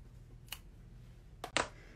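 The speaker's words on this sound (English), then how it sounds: "Okay, and then I'm going to cut the tails." Scissors trimming the tails of a ribbon at a craft table, a faint snip followed by two sharper close cuts near the end, with quiet room tone between them.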